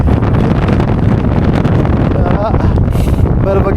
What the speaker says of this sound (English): bit of a gust.